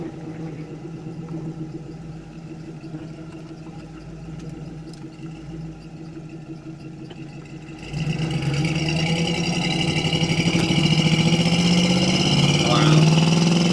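A 1970 Ford Mustang Grande's engine hums at low revs, then jumps in volume during a downshift partway through and climbs into a louder, rising roar.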